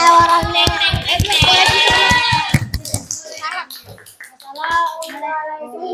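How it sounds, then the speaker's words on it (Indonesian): A class of students in an eighth-grade lesson claps for a student group in a quick, even rhythm for a couple of seconds, close and loud, then children's voices chatter and call out. "kita beri aplaus dulu untuk kelompok Yaro"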